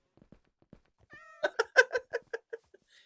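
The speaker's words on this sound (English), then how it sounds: "He just came over here and there was suddenly cats everywhere." Several Minecraft cats meowing in a quick series of about eight short, fairly close calls, with a faint rising whine just before them and no talking.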